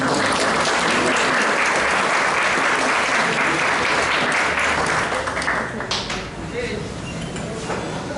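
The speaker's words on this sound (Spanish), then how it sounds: "pido un aplauso" A large audience at a breakfast conference in Guatemala applauds loudly and continuously for a speaker, a dense roar of clapping that holds steady before tapering slightly toward the end.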